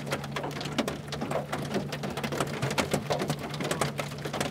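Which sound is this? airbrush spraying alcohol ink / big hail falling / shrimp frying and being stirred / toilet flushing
big hail falling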